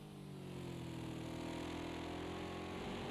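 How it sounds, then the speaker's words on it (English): A front-mounted Ginetta V8 in Project CARS 2 at the Nürburgring in a GT3 race, a steady droning engine hum that holds fairly constant pitch, distant and low in level. "You can hear the V8 in the front of that Ginetta."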